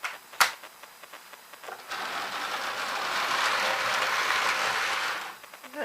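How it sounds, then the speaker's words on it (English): An OO gauge model railway locomotive runs along its track with a soft mechanical whir and rattle that swells for a few seconds and then fades, after a sharp click at the start. "I've got another loco moving."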